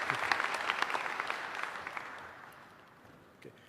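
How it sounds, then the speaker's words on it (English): Audience applause welcoming the next speaker at a conference talk, a steady wash of clapping from a crowd that gradually thins and fades out over a few seconds. "Let's give our next speaker a big round of applause."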